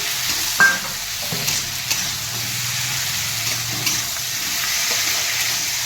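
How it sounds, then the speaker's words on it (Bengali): Green peas and ground spices (cumin, chilli, dried red chilli, black pepper) frying in a pan, a steady broad sizzle with occasional stirring clinks and scrapes, close and continuous with no talking. "একটু ফ্রাই করে নিই"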